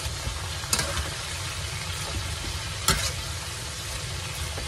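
Vegetables for pancit stir-frying in a pan, a steady close sizzle with a couple of sharp scraping clinks as the food is stirred.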